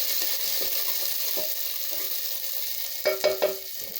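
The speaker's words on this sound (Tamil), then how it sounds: "வெங்காயம் போட்டுட்டு ஒரு வணக்கலாங்க." Onions sautéing in hot oil give a steady soft sizzle, broken by a few brief scraping stirs near the end, with no voices.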